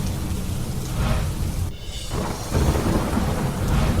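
Heavy monsoon rain pours steadily during a thunderstorm in Himmatnagar, Sabarkantha, Gujarat, with a loud, dense, continuous wash of rainfall and a deeper rumble of thunder swelling in partway through.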